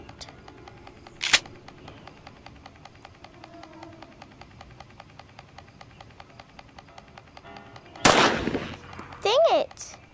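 A single sharp gunshot from a bullet fired in the Granny 2 horror video game, loud and brief near the start, followed by quiet background game tones and later bursts of other game sounds.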